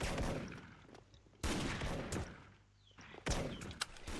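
Gold PSG-1 sniper rifle fired in the Special Force online shooter, three sharp loud shots spaced apart, each with a short echoing decay and low rumble between.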